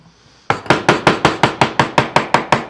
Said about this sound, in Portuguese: Agora eu pego um formão aqui, eu marco isso aqui todinho e eu venho cavando isso aqui.